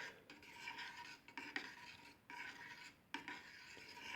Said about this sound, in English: we'll give that a stir